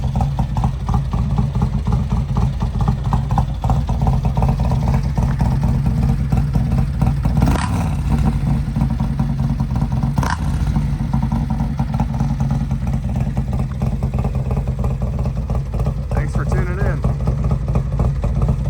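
A Harley-Davidson fitted with a D&D Billet Cat 2-into-1 exhaust and big bore baffle rumbles at a steady, loud idle close by, its deep throb running continuously throughout.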